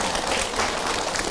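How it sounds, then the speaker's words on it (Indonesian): A crowd of women at a Quran study gathering applauds in a dense, steady wash of clapping that fills the short moment without pause. "Tepuk tangan ibu-ibu,"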